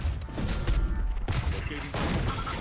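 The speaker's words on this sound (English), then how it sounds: "All missiles away." Missiles fire in a Valorant match as a burst of heavy, rumbling blasts and whooshes, loud and close, overlapping in quick succession with a voice speaking over them.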